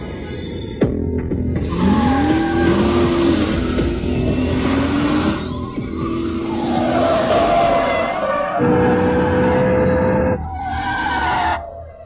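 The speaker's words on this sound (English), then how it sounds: "This is skidding." A car's tires skid and squeal in repeated drawn-out bursts over a loud, throbbing engine, the squeals rising and falling through a turn.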